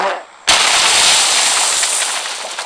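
Gunfire rips through a firefight in the video game PUBG Mobile: a sudden loud burst starts and then holds as a dense, sustained rattle of shots, close and harsh, fading slightly toward the end.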